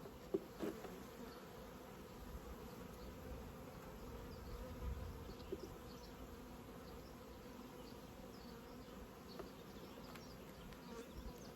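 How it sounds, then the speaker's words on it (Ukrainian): A honey bee swarm being hived buzzes continuously, a soft, even drone with occasional faint clicks, heard from close by in an otherwise quiet setting. "Так як бджоли багато."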